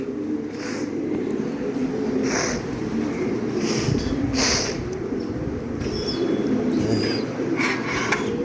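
Pigeons on a farm coo in soft repeated calls over a constant low hum, with a few brighter chirps, steady and moderately close.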